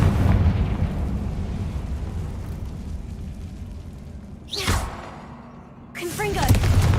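A Confringo fire spell in Hogwarts Legacy goes off in a rumbling blast that fades. Two sharp whooshing bursts follow some seconds apart, each swelling loudly and then dying away.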